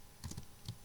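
A few soft computer keyboard keystrokes while writing C code, quiet clicks in a short cluster followed by one more tap.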